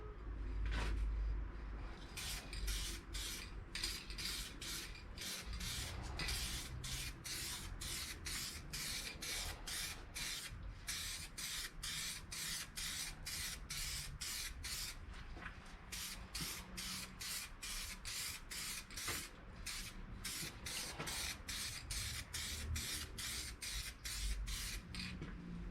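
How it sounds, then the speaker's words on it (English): Spray paint goes on as a light mist coat over the repaired area of a 2006 Ford F350, in many short regular hissing bursts with brief gaps between them, close and steady over a quiet background. "we're just gonna do kind of a little mist coat on the area that we fixed"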